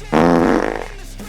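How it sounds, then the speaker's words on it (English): A single loud fart sound effect, a buzzy flapping tone that lasts about half a second and then trails off into quiet. "every single person on the planet farted yesterday"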